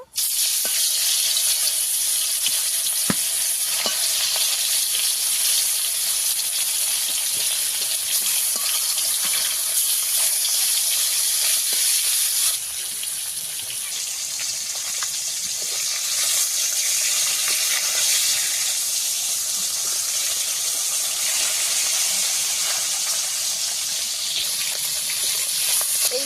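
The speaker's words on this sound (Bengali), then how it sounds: "মাছ আমি এইভাবে ভেজে নিয়েছি, রেখে দেব। বাকিগুলোও ভেজে নেব।" Fish pieces frying in hot oil in a pan, a continuous dense sizzle held close and fairly loud for the whole stretch, dipping slightly midway, with faint clicks and no talking.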